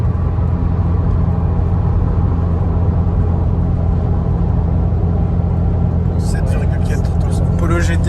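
A Volkswagen Polo GTI cruising on the road gives a steady, loud low cabin drone and tyre rumble, with voices talking over it and a brief rattling burst near the end.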